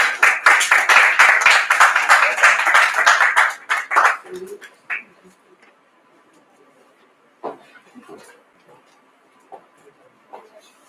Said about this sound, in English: So let's give her a hand.